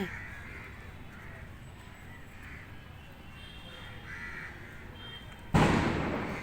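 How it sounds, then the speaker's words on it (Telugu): Crows caw quietly in the background before a single sharp firecracker bang bursts loud and close, its noise lingering briefly. "అమ్మ వేసేసారు బాంబులు"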